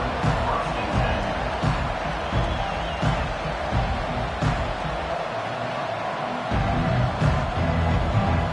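A football video game stadium crowd roars steadily, loud and continuous, with periodic swells and thumps and a short dip in the low rumble midway.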